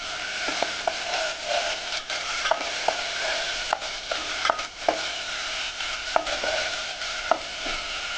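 Potato pieces fry in a hot pan for batatyache kalvan, a steady bright sizzle running throughout with scattered clinks and scrapes of stirring, close and continuous.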